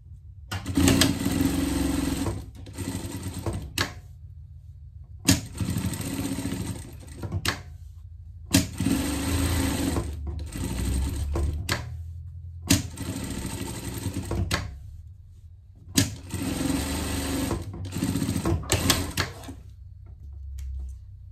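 A sewing machine stitches a pocket onto a pet sweatshirt in four long bursts of rapid mechanical whirring, each run stopping for a brief quiet pause before the next, loud and close with no talking.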